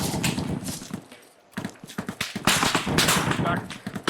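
Gunfire in the military shooter ArmA 3 during minefield training, a series of sharp close shots and bursts mixed with radio-style voices talking over the firing.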